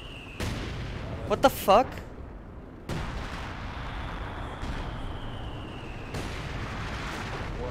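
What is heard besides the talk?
rocket artillery barrage in Company of Heroes 2 video game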